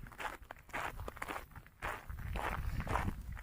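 Footsteps crunch along a gravel road on the way home from a nature walk, a steady run of close, rough steps with no talking.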